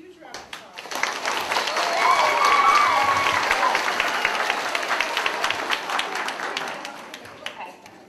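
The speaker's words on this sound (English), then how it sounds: "So let's give her a huge round of applause." A school assembly audience at a fourth grade academic event breaks into sustained applause, a dense wash of clapping that swells to a peak midway and stays strong, with some crowd murmur mixed in.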